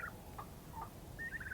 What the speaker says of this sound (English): they're talking back and forth gobbling